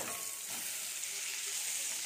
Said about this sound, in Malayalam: എന്നിട്ടിത് നന്നായിട്ട് മസാലയിൽ ഒന്ന് 1-2 മിനിറ്റ് ഒന്ന് മസാലയിൽ ഫ്രൈ ആകും